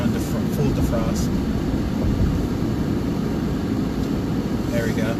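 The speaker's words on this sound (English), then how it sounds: "Turn on full defrost." A car's defroster fan blowing on full in cold weather, a steady broadband rush of air mixed with engine and road rumble inside the cab, continuous and fairly loud throughout, with faint voice traces.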